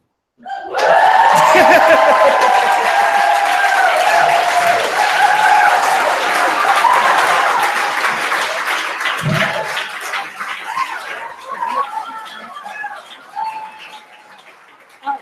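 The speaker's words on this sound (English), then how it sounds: "Another round of applause for Ken and Scott" An audience at a maker educator convening in Oakland applauds in a broad, sustained wash that starts abruptly, stays loud for several seconds, then slowly thins out, with scattered chatter and laughter mixed in.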